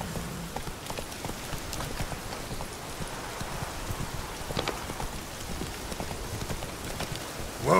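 Steady clip-clop of Roach the horse's hooves in The Witcher 3, a moderate walking rhythm over a soft, rain-like ambient wash, with no talking.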